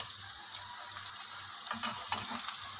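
Mixed vegetable balls fry in hot oil, giving a soft, steady sizzle broken by scattered crackles and pops. The sound is close but fairly quiet, with no voices.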